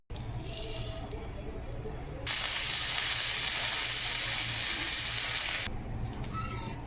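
Uttapam batter topped with onion, tomato, garlic, coriander, chilli, ginger and curry leaves sizzles steadily on a hot pan, a loud hiss swelling in the middle before easing back to a softer fry, with no talking.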